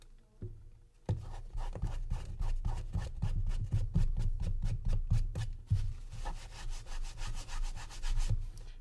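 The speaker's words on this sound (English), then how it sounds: "Another technique I use to get rid of any residue is a white eraser." A white eraser rubs residue off a video game cartridge in rapid back-and-forth strokes, each a short, scratchy swish, with a quieter patch of steadier rubbing near the end.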